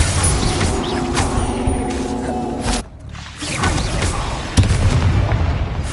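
A Bombard spell explosion in Hogwarts Legacy, loud booming blasts with a sharp burst near the start, a brief dip, then another heavy impact rumbling on.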